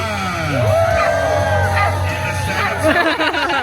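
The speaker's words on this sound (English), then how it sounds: "Make some noise for Cora." A crowd at corgi races at a winter corgi nationals event cheers and whoops loudly, a dense swell of shouting voices and yells filling the space without pause.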